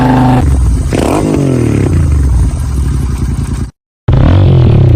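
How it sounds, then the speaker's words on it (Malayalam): A TVS RTX-D4 300cc motorcycle engine revving loud and close, its pitch rising and falling through several throttle blips with mechanical clatter, then cutting out briefly before picking up again. "RTXT4 എന്ന് പറഞ്ഞ പുത്തൻ പുതിയ 300cc എഞ്ചിൻ TVS ഇൻട്രൊഡ്യൂസ് ചെയ്തിരിക്കുക"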